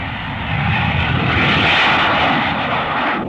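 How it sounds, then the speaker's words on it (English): Jet interceptor aircraft roaring across the sky, a loud, steady broadband engine rush that swells slightly in the middle and holds throughout with no voices. "they can send jet interceptors into the sky toward the enemy"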